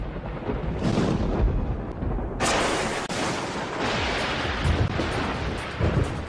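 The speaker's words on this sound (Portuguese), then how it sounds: "podem ajudar a provocar uma tempestade com raios e trovões" Deep rolling thunder rumbles during a thunderstorm, with a couple of loud cracking onsets followed by sustained booming that fills the whole stretch.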